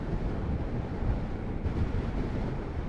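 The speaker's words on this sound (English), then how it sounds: "it's still extremely windy" Strong wind roars steadily across the microphone while riding a Kawasaki Z650RS motorcycle, a dense low rumble with no pauses, loud and constant throughout.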